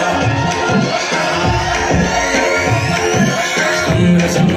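Audience at a kids' dance show in a mall in Dwarka claps and cheers loudly, a crowded, bustling wash of applause and shouts with children's voices mixed in, sustained throughout.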